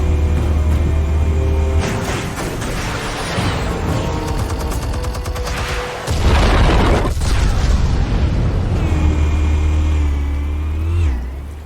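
Explosives detonating in the Batman Telltale video game: loud, sustained booming blasts with rumbling debris and a roaring low hum, dense and continuous, one sharp burst midway.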